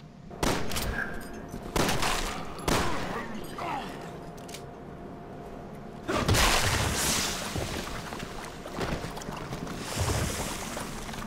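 Gunshots in the co-op shooter Resident Evil 6, a handful of separate sharp shots spaced a second or two apart over game ambience, with players talking now and then.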